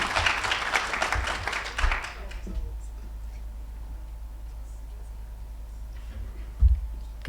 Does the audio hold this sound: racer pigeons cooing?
no